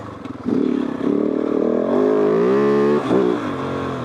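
A Kove 450 rally motorcycle engine revs up and holds a rising, steady drone while climbing a rocky off-road trail, loud and close throughout.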